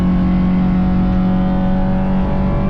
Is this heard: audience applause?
no